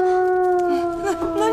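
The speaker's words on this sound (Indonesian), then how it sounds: "tiba-tiba terdengar suara lolongan serigala yang sangat keras" A loud, sustained wolf howl rises and wavers in pitch, sounding as a single long call that fills the moment.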